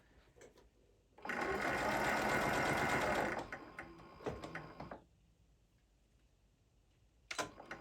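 A sewing machine stitches a zipper pouch in a steady, loud mechanical run lasting about two seconds, then slows into a few softer, uneven bursts before stopping, with a couple of sharp clicks afterward.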